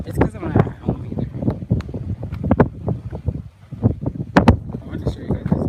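Wind gusting outdoors into a phone microphone, producing loud, uneven buffeting rumbles and thumps that rise and fall throughout, with a voice speaking intermittently.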